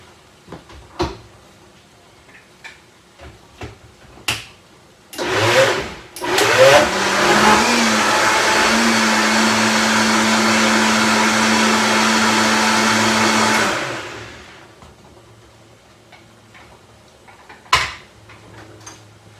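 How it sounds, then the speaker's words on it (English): A blender whirs up soup with extra broth added, a loud steady motor roar lasting about eight seconds after a few clicks and lid clatter, then winding down to quiet kitchen knocks. "And then we're gonna do another quick blend"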